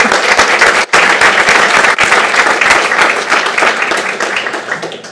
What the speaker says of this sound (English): One more round of applause for these young people.